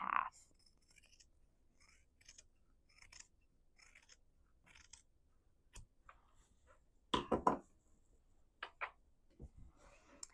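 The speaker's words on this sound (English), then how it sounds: "then you're going to trim this seam allowance off by about half" Scissors trim the fabric seam allowance on a sewn potholder. A few quiet, sparse snips and cuts sound close by in an otherwise near-silent room.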